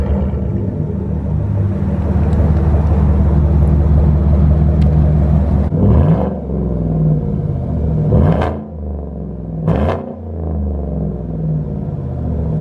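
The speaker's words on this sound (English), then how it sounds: "Corsa Sport catback exhaust system. That's what you were hearing. Sounds great." A Chevrolet Silverado Z71 pickup with a Corsa Sport catback exhaust idles with a deep burbling rumble, then blips the throttle three times, each rev rising sharply and dropping back to idle.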